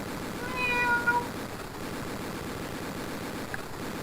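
A cat gives a single short meow near the start, clear above a steady low rumbling background hum, then the rest stays quiet except for the continuous drone.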